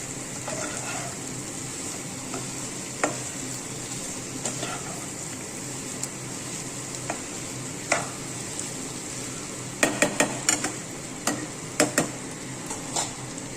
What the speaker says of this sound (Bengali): লবণ হলুদ ছাড়া ফুলকপি আলুগুলোকে ভাজা করলে ভাজাটা ভালো হয়